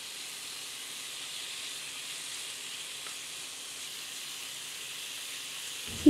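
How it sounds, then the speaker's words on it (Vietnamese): Steady, soft sizzling hiss of beef stir-frying in a pan, continuous and even throughout, ending with a brief clunk. "Tiếp đó, các bạn cho thịt bò vào chảo,"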